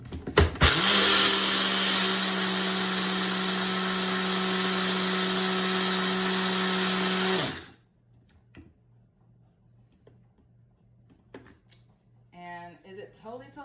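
Blender whirring loudly as it blends a soy-based vegan sausage mixture, a steady motor drone for about seven seconds that stops abruptly, followed by quiet handling noises and a brief voice near the end.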